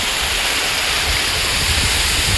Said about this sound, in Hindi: ये जो वाटरफॉल है